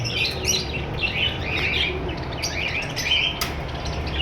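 Pet birds in a bird shop, a red-eye female and a pastel male among them, chirp and tweet continuously in overlapping bright calls, fairly close and busy, with no voices.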